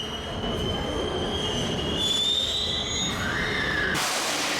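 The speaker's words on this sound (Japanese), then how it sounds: "近鉄おなじみのバシャンと響くブレーキ音を収めてから、車両に乗り込みます。" A Kintetsu 23000 series Ise-Shima Liner train rolls in with loud, drawn-out squealing air brakes and a rising metallic screech, ending in a sharp hiss as it stops.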